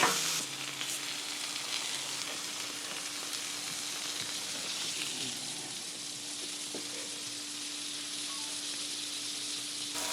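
Bacon pinwheel burgers frying in a pan, giving a steady close crackling sizzle with hissing spatter that holds throughout at moderate level, with no talking.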